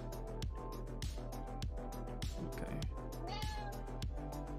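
A house cat meowing, with several short mews against steady, loud rhythmic music with a thumping beat that largely dominates the sound.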